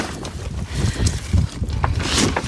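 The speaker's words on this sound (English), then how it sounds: "It's windy today." Gusty wind pounds the microphone outdoors while a four-plank fence is being built, in uneven low thumps and rushes, loud and close, with no voices.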